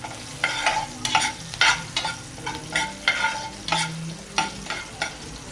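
Chillies fry in a pan for potato curry, with a spatula scraping through the oil in a quick, regular rhythm of close stirring strokes over a soft sizzle.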